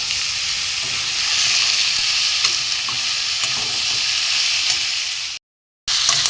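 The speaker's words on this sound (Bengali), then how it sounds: "আমি এই মশলাটা এতে পুরো ঢেলে দেবো। এবার আমি কষিয়ে নেবো, একটু কষিয়ে নেবো" Spice paste of grated ginger, chilli powder and a little sugar sautés with mixed vegetables in a pan, making a loud, continuous sizzle with stirring, then a brief cut to silence near the end.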